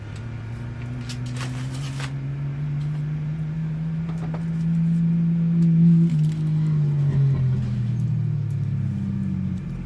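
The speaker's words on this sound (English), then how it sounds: "cars should be coming in here shortly" Race cars rumble on a dirt track at a Montana event, with a steady low engine drone that rises and falls in pitch as the cars pass through at a distance.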